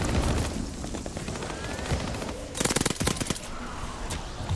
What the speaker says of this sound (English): This MP40 is really nice and easy to use